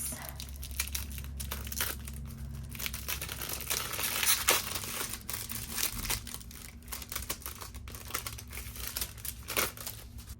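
Paper cash envelopes being handled, with close crinkling, rustling and soft tearing-like crackles that come in uneven bursts throughout, no talk.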